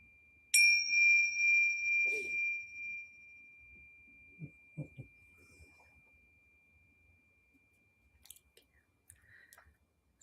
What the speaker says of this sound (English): Different bell today.